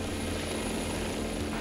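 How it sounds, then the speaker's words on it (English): A police helicopter in Germany flying, its steady rotor and engine drone loud and continuous throughout with no talk. "Their version of the helicopter, which London's Air Support Unit will get in 12 weeks' time."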